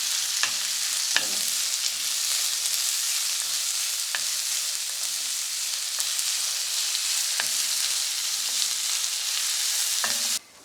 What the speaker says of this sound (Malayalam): സവോള ഇനി നന്നായിട്ടൊന്ന് വഴണ്ട് വന്ന് അതിൻ്റെ ആ നിറമൊക്കെ ഒന്ന് മാറി വരണം അതുവരെ നമുക്കത് ഇളക്കി കൊടുക്കാം